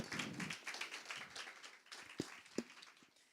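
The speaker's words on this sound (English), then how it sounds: "let's take a moment to clap for ourselves" A crowd of audience members at a women's banking launch event claps together, a dense patter of hand claps with a few sharper, louder claps standing out near the end, heard without talk.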